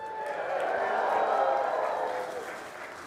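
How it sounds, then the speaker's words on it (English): Packed live crowd at a winter speaker series event applauding a prize winner, steady broadband clapping and cheering that swells and holds for about three seconds, fairly loud and continuous. "Let's hear it for Laura"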